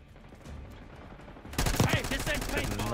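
Assault rifle fire in the Black Ops 6 team deathmatch game, a quiet stretch followed by a loud, rapid burst of shots with other game effects mixed in.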